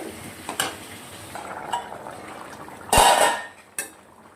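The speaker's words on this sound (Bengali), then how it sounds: "এবারে ভাজা আলুগুলো দিয়ে দিলাম, আর এই সোয়াবিন সেদ্ধ করে রেখেছিলাম দিয়ে দিলাম।" Fried potatoes and boiled soybean chunks tipped into a pan of cooked-down spice paste and stirred, with metal spoon scrapes and clinks against the pan over a soft sizzle, one louder clatter midway.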